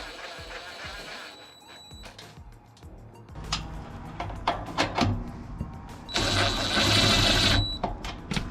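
Screws being driven into the side panel of a Cubic Mini woodburning stove with a 5/16 driver, heard as close, quick whirring and ratcheting bursts with small clicks and metallic taps, growing louder near the end.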